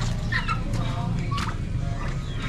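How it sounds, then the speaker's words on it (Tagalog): Poultry quack and cluck in short bursts nearby, mixed with rustling and background noise. "gutom na po yung mga pato, oh"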